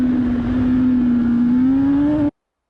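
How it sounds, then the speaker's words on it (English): A racing motorcycle accelerates on the Donington race track, a loud close engine drone with a steady pitch that climbs gently, then cuts off abruptly. "I pick up the throttle as soon as I'm at the white line"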